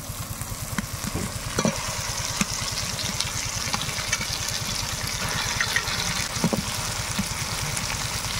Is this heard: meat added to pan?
yes